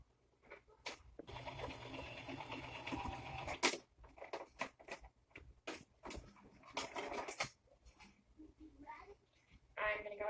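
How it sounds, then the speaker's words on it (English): Sewing machine stitches a fabric face mask in bursts of rapid mechanical chatter, starting and stopping several times, with a voice and other speech in the background. "I'm going to go ahead and run over it one more time just for extra stitches."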